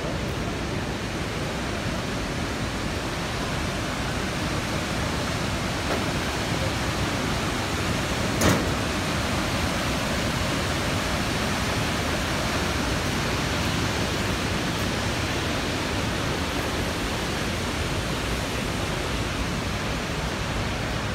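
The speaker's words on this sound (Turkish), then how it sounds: "Şelalenin baş kısmına doğru." The Palovit waterfall on the Ayder plateau roars as a loud, constant, broadband rush of falling water heard up close, unbroken throughout with no voices audible.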